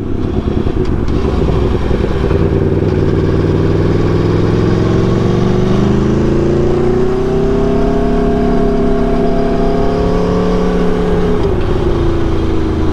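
A car engine hums and revs steadily while being driven, rising and falling in pitch as it pulls along, loud and close inside the cabin with no talk.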